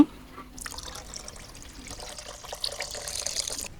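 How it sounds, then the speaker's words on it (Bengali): Hot water is poured from a pan into a pot of browned beef and potatoes. After a short quiet start, a steady splashing pour continues, close and moderately loud, growing slightly toward the end. "আমি গোসে জল দিয়ে দিব এই যে পাতিলে আমি গরম পানি করে রাখছি এইডান দিয়ে দিব"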